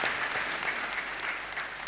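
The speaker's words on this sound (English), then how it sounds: "A big round of applause to you." Conference audience applauding a talk speaker, a dense, steady wash of clapping filling the whole stretch at even loudness, with no voices standing out.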